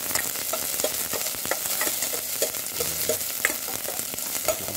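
Onions sauté in oil, giving a loud, continuous sizzle close by, with a quick run of soft stirring taps throughout. No voices.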